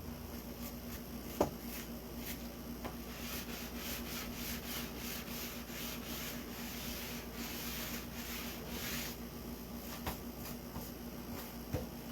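The edge of a pizza pan is rubbed smooth by hand in repeated rough, scratchy strokes with a few sharp clicks, close but faint, and no one talks.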